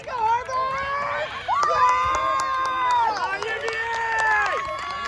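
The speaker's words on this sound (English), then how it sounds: "The crowd now getting into it, knowing UVA just needs one to win it." A crowd at a college quidditch match between UVA and Harvard cheering and shouting with rising, sustained yells and high-pitched voices, loud and continuous, with a commentator's voice woven into the din.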